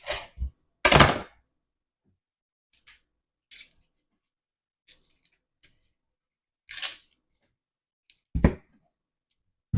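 A kitchen knife chops off both ends of a vegetable for fajitas, then halves it, giving a handful of separate sharp thunks on a cutting board spread across quiet pauses.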